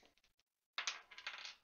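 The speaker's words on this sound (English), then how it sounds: "Sound of a GM rolling dice." A game master rolls dice during a tabletop role-playing session: a faint rattle, a short pause, then a close, clattering tumble across a surface that fades out.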